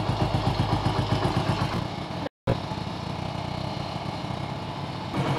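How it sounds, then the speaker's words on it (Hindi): A motorcycle engine idles steadily after an engine flush, with a fast even putter throughout, broken by a brief cut near the middle before the idle continues. "इंजन को जस्ट मैं ऑन कर दूंगा और अभी मैं यहाँ पर जस्ट इसे आइडल के पोजिशन पर छोड़ दूंगा"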